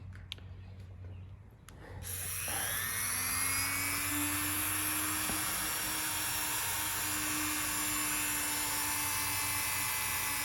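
A high, steady whine from a rotary cutting tool starts around two seconds in and holds loud and constant with a rising pitch sweep, cutting into a rear diffuser being fitted to an ST185 Toyota Celica All-Trac.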